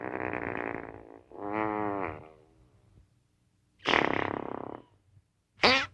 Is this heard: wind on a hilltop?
no